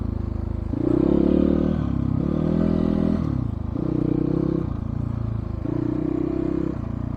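A 2022 GPX FSE300R motorcycle's engine drones steadily on a trail in first gear, its loud low note rising and falling in pitch several times as the rider rolls on and off, with no voices over it.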